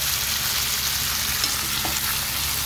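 Stuffed brinjals and potatoes fry in a wok, giving a loud, dense, unbroken sizzle heard close up with barely any stirring sounds and nobody speaking.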